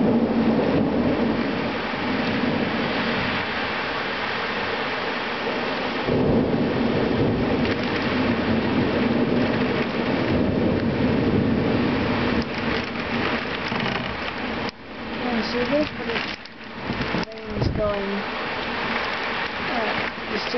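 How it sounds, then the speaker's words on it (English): Heavy, wind-driven sideways rain pours down in a thunderstorm in Biggar, a dense, steady roar with deep rumbling thunder rolling through, loud and close, with brief gusty bursts near the end. "But the rain is blowing sideways."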